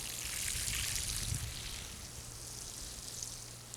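Water soaks dry, newly planted soil in a fall garden bed, a soft, steady splashing trickle that stays fairly quiet and even throughout, with no speech.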